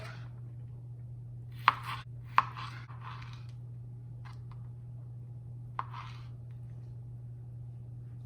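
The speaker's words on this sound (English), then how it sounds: "let's start cutting the steak tuna in about half inches thick" A kitchen knife slices an ahi tuna steak into half-inch-thick pieces: a few sharp, close cuts spaced well apart, with quiet between strokes and no talking.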